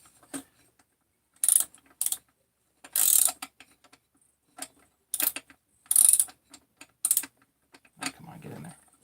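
A ratchet wrench checks engine head bolts in short separate bursts of clicking, with quiet gaps between them and faint handling noise near the end.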